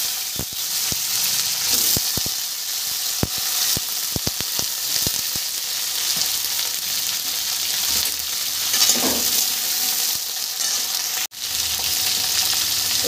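Potatoes and papaya sizzle in hot oil in a pan, a steady bright frying hiss with a run of sharp stirring clicks and scrapes early on, close and without talk.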